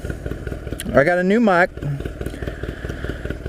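A 1982 Honda 250cc flat track motorcycle idles with a low, uneven putter running steadily under a man's close, loud speech.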